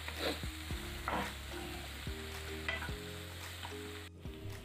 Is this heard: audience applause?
no